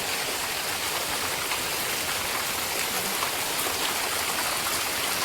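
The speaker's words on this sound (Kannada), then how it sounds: "ನೀರು ನೋಡಿ ಬೀಳುದು ಸ್ಲ್ಯಾಪಿನಿಂದ" Heavy rainwater pours steadily from a concrete roof slab during a downpour, a dense, continuous splashing roar with no breaks, close by and without voices.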